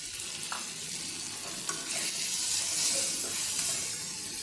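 A spice paste of ground cumin, turmeric, chili and coriander mixed with water fries steadily in a pan, a close, continuous sizzle with occasional soft pops and stirring scrapes.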